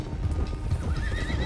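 Horses in Red Dead Redemption 2 clatter along with a steady clip-clop of hooves while one lets out a high, wavering whinny near the end, loud and close amid rumbling ambience.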